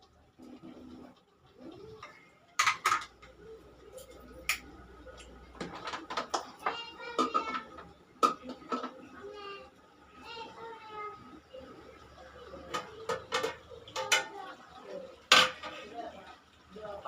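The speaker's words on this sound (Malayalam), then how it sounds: "ചിക്കൻ കറി ഇളക്കാം" Stirring chicken curry in a pot, with repeated scraping and clanking of a spoon against the metal, near and fairly loud in short bursts, under occasional talk.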